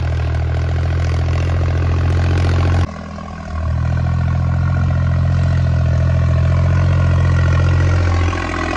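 A farm tractor engine labours under heavy load while pulling a plough, a loud, steady low drone throughout with a brief dip in power near the three-second mark before it pulls hard again.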